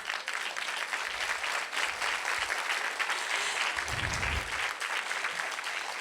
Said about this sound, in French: qu'on peut encore applaudir.